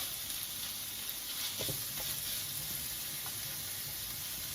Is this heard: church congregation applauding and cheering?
no